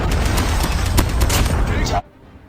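Man O War rifle firing in COD Mobile, a loud, dense run of rapid gunshots for about two seconds before cutting off abruptly into quiet.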